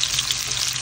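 Meat fries in a hot pan at home, a steady bright sizzle and hiss that continues evenly without pauses.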